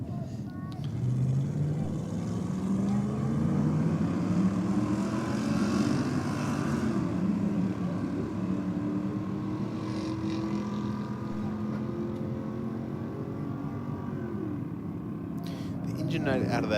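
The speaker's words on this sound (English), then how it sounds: "The engine note out of that Audi is unexpected." An Audi drag car with a fairly open exhaust pipe roars steadily down the Sydney Dragway at night, a sustained loud engine drone that shifts in pitch as the car pulls away.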